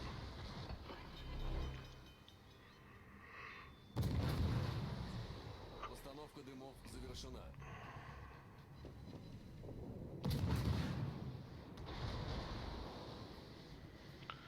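Naval gun salvos from warships in World of Warships, two heavy booming volleys with rumbling tails amid quiet game ambience, and someone talks between them.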